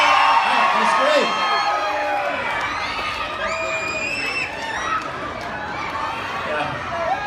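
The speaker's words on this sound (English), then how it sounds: "You gotta scream if you want to get one. Come on. All right, let's scream." A press-event crowd at Busch Gardens Williamsburg screams and cheers together in a loud, sustained roar with scattered whoops and children's shouts, while a voice briefly calls out over the noise.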